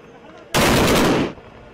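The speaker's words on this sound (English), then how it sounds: "Gunfire rings through empty streets." A burst of gunfire in the empty streets of Al Alam near Tikrit, Iraq, loud and sustained for under a second and then cut off, with quieter sound before and after.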